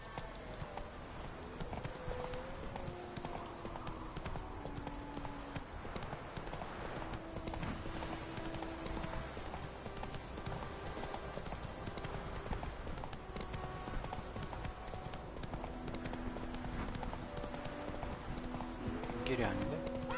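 Horse hooves clip-clop steadily throughout a ride in a PS4 video game, the rhythmic footfalls sitting under a continuous bed of game music and ambience, with a person talking over it at moments.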